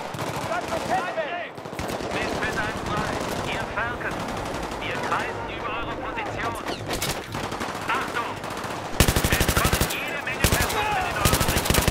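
Rapid automatic gunfire from the Battlefield 3 video game rattles almost without pause, ending in loud, dense machine-gun bursts. Faint voices and game sounds sit underneath.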